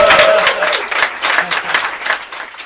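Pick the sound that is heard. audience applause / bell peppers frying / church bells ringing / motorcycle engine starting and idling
audience applause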